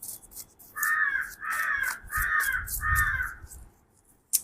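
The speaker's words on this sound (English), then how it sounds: "Hear the music with me, the birds" Four harsh crow caws ring out in an even rhythm, close and loud, followed by a sharp click.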